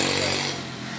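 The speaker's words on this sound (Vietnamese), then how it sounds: "bây giờ em sẽ giật thử hơi một số cái con cưa này ha" A used two-stroke chainsaw, one of a batch of Shindaiwa, Echo and Shingu saws, is pull-started for a test and gives a loud, brief burst of engine noise that quickly drops back.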